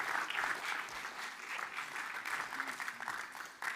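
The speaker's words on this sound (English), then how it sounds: "Let's give them a big round of applause." Sustained applause from a crowd at a summer quiz night as a winning team is called up for a trophy, steady clapping at moderate distance throughout.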